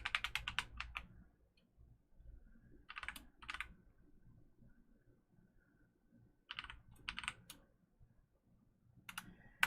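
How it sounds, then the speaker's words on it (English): Symbols being typed on a computer keyboard come as several short bursts of quick, close key clicks separated by quiet pauses, faint and alone without talk. "Let's type my symbols back again."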